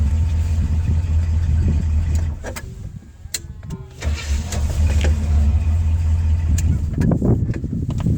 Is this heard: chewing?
no